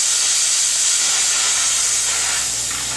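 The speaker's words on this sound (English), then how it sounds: "This will give you a dry steam, 100 psi of concentrated" Therma Steem 1.5 steam cleaner releasing dry steam at 100 psi, a loud continuous close hiss that holds steady throughout, with no talk.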